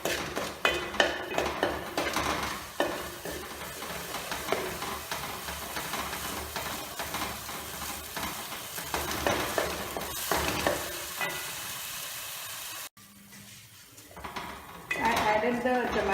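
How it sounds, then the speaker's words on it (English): Ingredients for a coconut fish curry are sautéed in oil in a pan over a medium flame, giving a continuous sizzle with spatula scrapes and clinks against the pan, which drops away briefly before returning. "with half teaspoon of oil and again saute for another 5 minutes. In a medium flame."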